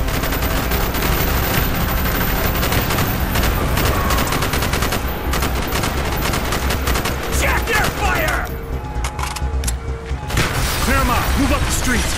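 Dense, sustained gunfire from Call of Duty Black Ops, Bay of Pigs mission, with rapid overlapping shots and bursts continuing throughout, loud and close, with some voices mixed in.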